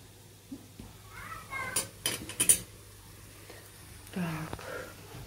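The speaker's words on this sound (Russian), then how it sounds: "Вот, посуда моя собирается." Dishes and pots clinking and knocking as they are gathered in a home kitchen, a few scattered clatters and clanks spread through a quiet stretch, with a cat meowing faintly at times.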